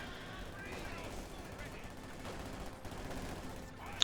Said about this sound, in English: with my flak half-track shooting down recon planes